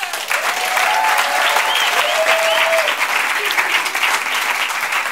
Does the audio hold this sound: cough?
no